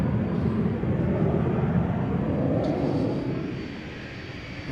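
Embraer Phenom 300 business jet departing Amsterdam Schiphol: a broad, steady engine roar held at a moderate distance that slowly fades as the aircraft moves away, with no talking.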